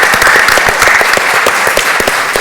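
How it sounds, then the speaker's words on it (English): Loud, dense applause from a crowd at a Labour Party conference event, continuous clapping throughout with no voices standing out. "I think we ought to applaud Jed in creating this"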